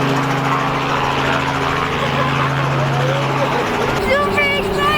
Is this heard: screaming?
no